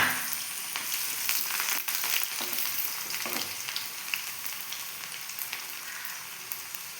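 Three or four cut shallots sizzle in hot oil with popped mustard seeds for a simple Kerala-style curry, a steady close crackle with occasional stirring scrapes and no talk.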